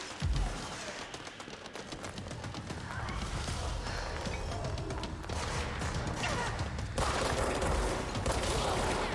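Gunfire rattles at the player in the video game Control, with dense bursts of shots and impacts over a busy game soundscape, continuous and fairly loud throughout.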